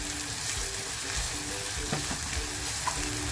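Onion frying in a pan for an oyster masala, with a steady close sizzle and crackle throughout and a few faint scrapes of stirring.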